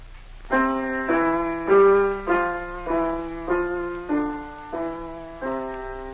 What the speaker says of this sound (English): you may sound like this when you play the piano